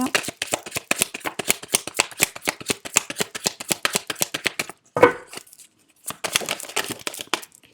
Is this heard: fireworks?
no